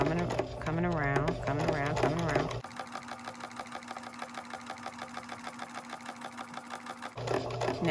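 A Kenmore 385 series sewing machine stitches with its automatic buttonhole attachment, a steady rapid mechanical whirr with rhythmic clatter running for several seconds after a voice speaks over the start, then stopping as talk resumes.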